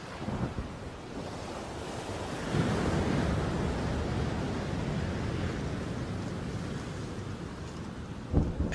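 Stormy weather at sea off Christmas Island, with a steady roar of wind-driven surf and rain and a deeper rumble like thunder swelling around the middle; the noise stays loud and continuous throughout, with no voices.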